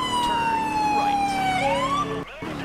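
High-low police siren from a police car in GTA IV, a loud, steady two-tone wail alternating pitch continuously before cutting out briefly near the end.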